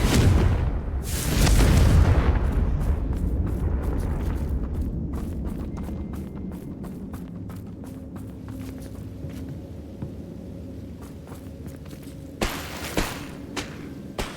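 A Confringo fire spell in Hogwarts Legacy bursts with a loud, deep booming blast early on, then a rumbling decay while scattered impacts and pops follow, with a couple of sharper hits near the end.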